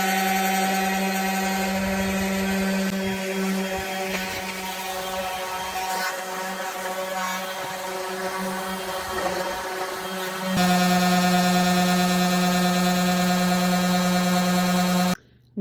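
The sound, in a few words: battery-powered rotary sander with 120 grit sandpaper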